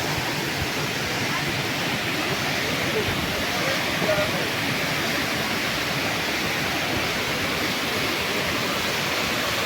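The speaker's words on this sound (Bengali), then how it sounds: "পাহাড়ের উপর দিয়ে জল নেমে আসছে" Water rushes down a mountainside in Darjeeling, making a loud, steady broadband roar that holds unbroken throughout.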